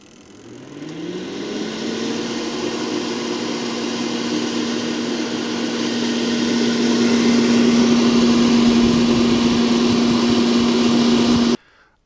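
A Philips HD9220 airfryer runs its fan above the heating element: a loud, steady whirring hum whose tone climbs as it spins up, holds evenly for about ten seconds, then stops abruptly.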